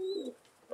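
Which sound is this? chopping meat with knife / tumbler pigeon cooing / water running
tumbler pigeon cooing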